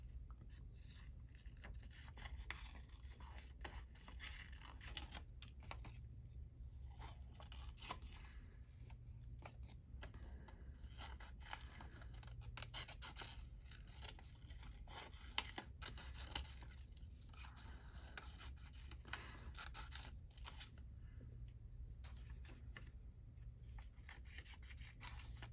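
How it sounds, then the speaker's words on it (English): Steady snipping and rustling of scissors cutting paper, quiet and close, with repeated small cuts and paper handling over a soft background hum. "Much easier if I use these scissors."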